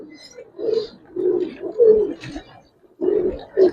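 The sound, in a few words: Giribaz pigeons cooing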